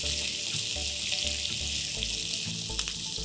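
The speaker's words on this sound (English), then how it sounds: "Saute these onions till they are nice and brown." Three shredded onions sautéing in a pan with cinnamon, cloves, a bay leaf and spices, a steady broadband sizzle with low bubbling pulses and soft stirring clatter throughout, close and continuous with no voices.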